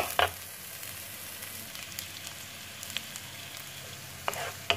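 Sliced onions fry in a pan for squid adobo, giving a steady, quiet sizzle with a few brief stirring clicks and scrapes.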